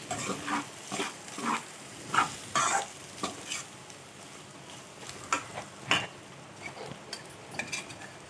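A spoon stirring brinjal curry with chili powder in a pan, with repeated soft scraping and clinking strokes over a faint sizzle, close and fairly quiet.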